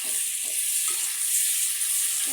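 Tomatoes with salt fry in a pan for fish pulusu, a continuous bright sizzle with faint stirring movements, close and steady throughout.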